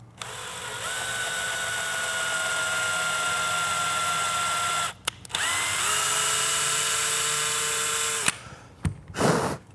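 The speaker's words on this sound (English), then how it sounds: "So I'll just tap this uh, 3D printed hole real quick." A power drill or tap driver cuts a thread into a 3D printed hole sized for an M4 screw, a loud steady whine running for several seconds, stopping briefly, then resuming before cutting off with a few short bursts.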